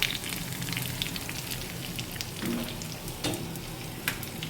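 Hot tempering of dried chillies and curry leaves is poured into a prawn and tomato curry, setting off a steady close crackling sizzle with scattered sharp pops throughout, no talk.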